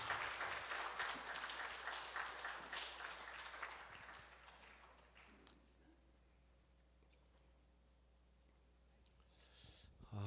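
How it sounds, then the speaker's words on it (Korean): Congregational applause for a church choir at a Sunday revival service in a Korean-American Methodist church; a dense patter of clapping fills the first half, then fades to quiet room tone before a brief swell at the end. "우리 다 내려갈 때까지 다시 한번 박수 크게 해주세요"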